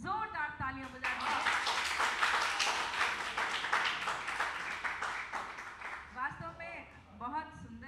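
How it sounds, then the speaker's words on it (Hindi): Audience applause at a Hindi poetry recital: steady, fairly dense clapping from a crowd running for several seconds, framed by someone speaking before it starts and again as it fades. "एक बार बहुत जोरदार तालियां बजाएं"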